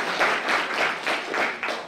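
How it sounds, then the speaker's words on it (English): An audience at a talk applauds briefly, with a dense, rhythmic patter of many hands clapping together over about two seconds. "On applaudit tous les francophones."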